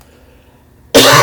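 After a near-silent pause, a sudden loud cough erupts right up close to the microphone and cuts off abruptly.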